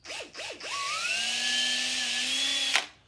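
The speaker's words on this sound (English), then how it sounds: "And you want to pre-drill so you don't crack it." A power drill pre-drills screw holes in a plastic face shield: two short revving bursts, then a steady high whine held for about two seconds before it cuts off, close and loud.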